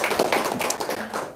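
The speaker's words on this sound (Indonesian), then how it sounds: "Tepuk tangan dulu dong." An audience claps at a lively gathering, producing a brief, dense patter of hand claps heard nearby.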